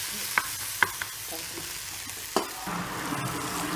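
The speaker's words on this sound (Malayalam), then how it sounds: "തക്കാളി നന്നായിട്ട് വെന്ത അലിയോളം വരട്ടി ഇങ്ങനെ മൂടി വെച്ച് കുറച്ച് നേരം വേവിക്കുന്നു" Tomatoes sautéing in a pan for rasam, a gentle sizzle broken by a few sharp utensil clicks and a scrape, close up and fairly quiet with no voices.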